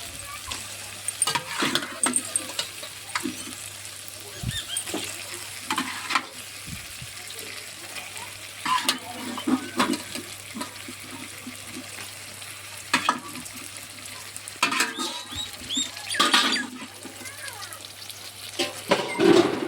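Chicken frying with onion and tomato in a pan is stirred, giving a steady sizzle under repeated scraping and clinking strokes of a spoon against the metal, close and fairly loud.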